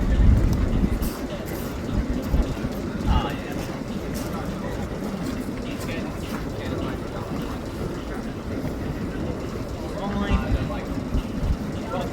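A passenger train at a heritage railway station in summer gives a steady low rumble throughout, with people talking under it and faint higher squeals and clanks.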